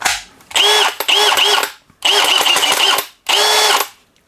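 Milwaukee 2804-20 half-inch cordless hammer drill/driver revved in loud bursts, three main runs with a whining motor that spins up and down, plus short trigger blips between them.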